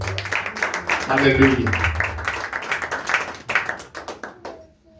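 An audience at a church gathering claps in an irregular burst of hand claps that rises and fades, mixed with a voice speaking over it and a spoken exclamation near the start.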